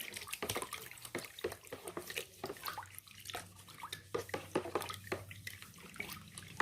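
Hair dye being stirred into water, close splashy sloshing and dripping in irregular bursts under a low steady hum.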